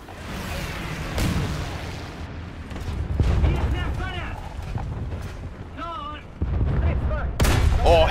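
Several heavy booms and blasts from bombs in a shooter video game, scattered among gunfire, with voices speaking between the explosions.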